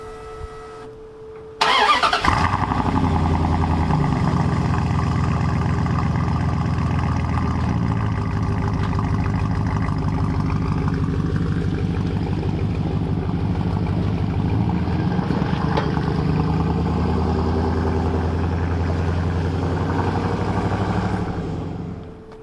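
A 1999 Dodge Ram pickup truck with 307,000 miles cranks briefly and then fires on a cold start, settling into a loud, steady close-up idle with a faint rev shift partway through before it cuts off near the end.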